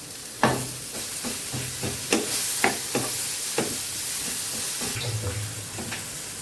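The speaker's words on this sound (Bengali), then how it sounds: "এই মশলাটা আমি দিয়ে কষিয়ে নেব।" Ground masala of coriander, cumin, turmeric and salt fries in a pan for a Bengali rohu fish curry, loud sizzling broken by a series of sharp spatula scrapes and knocks in an uneven rhythm.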